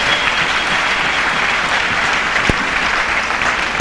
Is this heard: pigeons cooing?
no